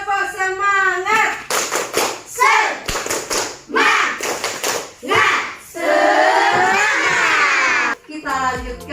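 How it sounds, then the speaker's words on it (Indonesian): A class of schoolchildren performs the rhythmic 'tepuk semangat' clapping routine in an Indonesian classroom, sharp clap bursts in patterned groups alternating with children chanting loudly in unison. "Tepuk semangat."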